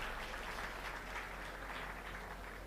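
Sustained applause from a large audience at a Tamil stage speech, a dense continuous patter of clapping at steady loudness with no pauses.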